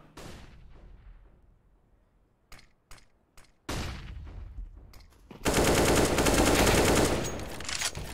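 Gunfire from the video game CS:GO: several sharp single shots, then a loud sustained burst of rapid automatic fire that dominates the mix, with no talking.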